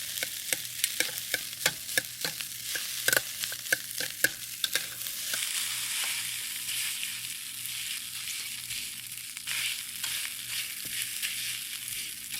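Salmon fried rice is stir-fried in a hot pan, and a spatula breaks it apart with a run of sharp taps and scrapes before the sound settles into a steady sizzle, close by, with no talking.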